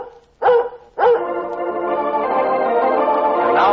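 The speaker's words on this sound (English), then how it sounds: "Lassie speaks for all dogs when Lassie speaks for Red Heart" Lassie, the collie, barks twice sharply on an old radio broadcast, then breaks into a long, drawn-out howl that holds steady and loud to the end.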